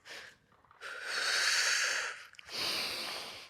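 Heavy breathing during an upper-body strength workout for chest, shoulders and triceps: a short breath, then two long, forceful, airy exhales close to the mic, with no talking.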